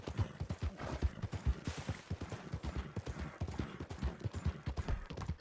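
Hooves of a Kentucky Saddler horse in the video game Red Dead Redemption 2 clip-clop in a quick, steady trotting rhythm, continuous and close, the regular beat carrying through the whole stretch.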